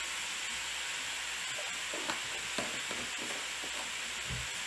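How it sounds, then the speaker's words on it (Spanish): Ground beef frying in a pan and stirred with a spoon during lasagna preparation, a steady close sizzle with soft scraping stir strokes scattered through it. "Vamos a mover la carne para que se cocine"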